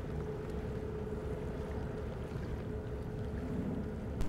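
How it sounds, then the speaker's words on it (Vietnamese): A self-propelled barge runs close past a container ship at sea, a faint steady engine drone with water and wind wash underneath, no talking. "đây có một chiếc xà lan tự hành nữa. Chạy rất là gần tàu."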